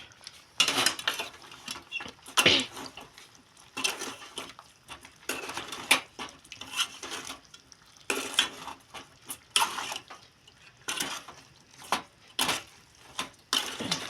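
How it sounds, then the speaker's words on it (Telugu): Chicken curry with garam masala is stirred in a pot, giving repeated scraping, clinking strokes of a utensil against metal in irregular bursts over a faint background sizzle. "ఇది ఒకసారి మిక్స్ కలిపేస్తా"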